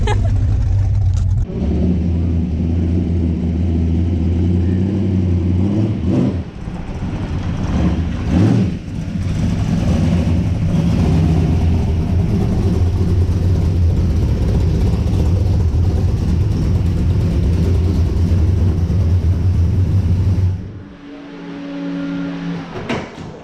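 Car with a newly installed torque converter drives along, its engine rumbling steadily and loudly with some revving swells, then cutting off near the end to quieter background sounds.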